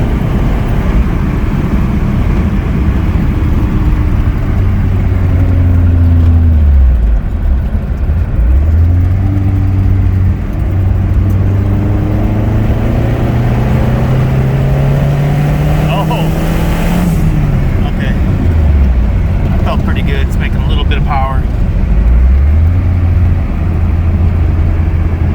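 Car with a CFX01 clutch accelerating hard in third gear, engine drone rising steadily for many seconds before easing off, then revving again, loud and close from inside the cabin.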